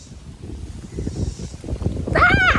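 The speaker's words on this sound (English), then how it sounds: "it rained a minute ago and now it's windy" Gusty wind roars against the microphone, building louder toward the end, with a short squeaky whine rising over it at the close.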